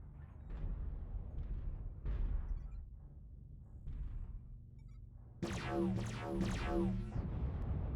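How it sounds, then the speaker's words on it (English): An ammo explosion in MechWarrior Online bursts out as a loud crackling blast with rapid popping that follows a rumbling low drone of mech combat. "Ammo explosion detected."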